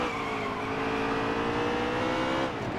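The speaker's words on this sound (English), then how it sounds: "Hopefully it wasn't Tyler Reddick that just wrecked him" A NASCAR race car wreck under racing conditions, with a steady loud engine roar and rising tire squeal from skidding, the pitch sliding down near the end as the car slows.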